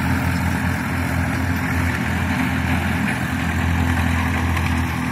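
A Massey Ferguson 1035 tractor engine drones steadily while pulling a 14-disc harrow, a continuous, even mid-to-low rumble at constant loudness throughout.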